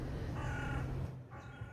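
Outdoors, a crow caws twice, two drawn-out harsh calls separated by a short gap, heard over a steady low background rumble.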